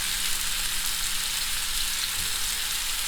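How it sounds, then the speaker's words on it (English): Masala lamb chops sizzle over a medium flame as a steady, even hiss of frying that stays close and constant throughout, with no voices. "Let it be on a medium flame for at least 7 minutes until it gets a little bit char-grilled."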